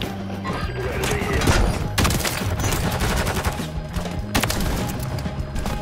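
Loud, dense gunfire from an online shooter match with a no-scope sniper, several sharp cracks and booms stacked over busy game noise and music, with a sharp burst near the two-second mark and another just past four seconds.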